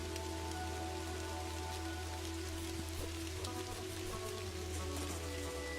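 Steady rain patters on a surface throughout, a dense constant hiss in the game Kathy Rain, with a low droning music bed underneath and no talk.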